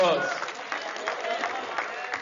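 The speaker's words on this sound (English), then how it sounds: "Give the man a round of applause." An audience at a mathematics exam preparation talk claps in steady, moderately loud applause that runs through the whole short stretch, with a voice heard faintly under it.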